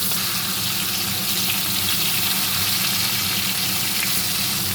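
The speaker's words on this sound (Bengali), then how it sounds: "এই তেলে আমি আলুগুলো ভেজে নেব, সাথে লম্বা করে কেটে রাখা বেগুনগুলোও ভেজে নেব।" Potatoes and long-cut eggplant slices frying in hot oil give a steady, dense sizzle. The hiss stays close and even throughout, with no voices.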